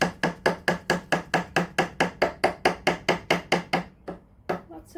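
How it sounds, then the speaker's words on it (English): A small wood chisel strikes a workpiece again and again, taking slices with its beveled edge: about fourteen evenly spaced sharp knocks at close range, then a pause and a few lighter, softer taps. "Now I'm going to take the smaller chisel again and use the beveled edge to the wood"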